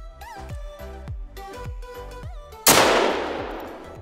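Single loud rifle shot from a 9.3x74R double rifle in the hunting game theHunter: Call of the Wild, a sharp crack that decays over a second, following quiet rhythmic music with no voices.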